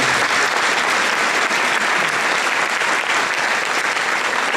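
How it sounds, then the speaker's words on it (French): A large audience at a mayor's 2019 New Year greetings event in Vigneux applauds in a dense, sustained wash of clapping that holds at an even level throughout, with no voices standing out. "on peut aussi l'applaudir"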